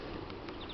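Buckfast honey bees at an opened hive with a honey super, giving a steady, close, continuous buzzing drone with no voices.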